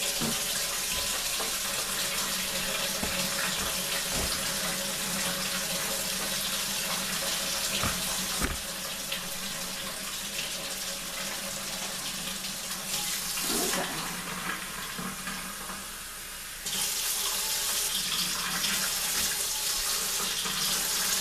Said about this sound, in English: you're going to start with 1 cup of warm water.